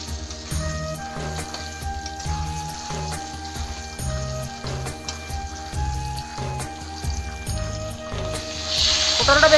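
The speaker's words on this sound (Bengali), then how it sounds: "এখন দিয়ে দেবো পটলগুলো ভেজে নেবো লাল লাল।" Pieces of pointed gourd (parwal) fry in hot oil seasoned with salt and turmeric, giving a steady close sizzle with occasional crackles and scraping stirs, and a brief louder hiss near the end.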